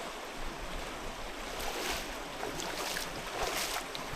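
Continuous broad rushing of water and engine drone from a motorboat moving along a shallow river, steady and fairly close, with no voices.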